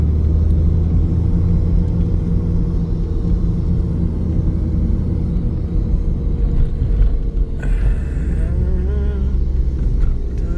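A car drives along mountain roads near Siriu Lake in Buzau County, Romania, producing a loud, continuous low engine and road rumble heard close and steady throughout, with no talking.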